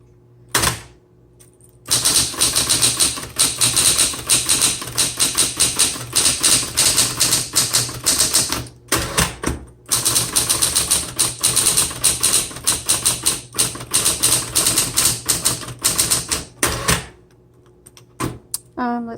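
Rapid bursts of key strikes clatter on a 1970s Smith Corona Electra 220 electric typewriter, close and loud, with a few brief pauses between runs over a low steady motor hum.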